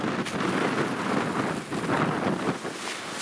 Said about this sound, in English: Wow. It's really blowy.